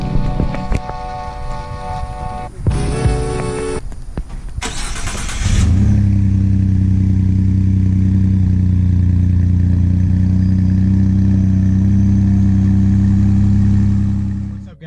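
A Ford F-150 EcoBoost pickup with an aftermarket exhaust cranks and fires up, then settles into a loud, deep, steady exhaust rumble that holds before cutting off; a few sharp clicks and bumps come first.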